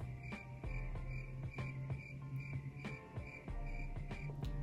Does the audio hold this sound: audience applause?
no